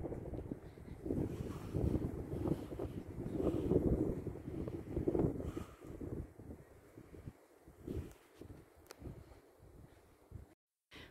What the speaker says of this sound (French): Là, vous êtes face au vent.